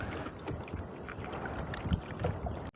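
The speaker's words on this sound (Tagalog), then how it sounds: "At biglang lumakas ang hangin." Strong wind buffets and roars across the microphone in a continuous, gusty rush, ending with a sudden knock.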